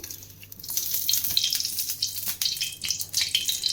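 Ghee sizzles and crackles steadily in a pan on a stovetop, a close, continuous frying hiss with faint clinks and no talking.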